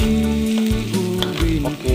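Garlic, shallots and ginger hitting a hot pan, a loud close sizzle with bubbling and crackling bursts, steady and continuous for the short moment with no speech.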